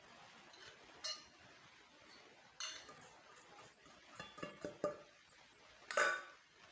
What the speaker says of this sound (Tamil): இப்போ சேர்த்து நல்லா கலந்து விடுங்க.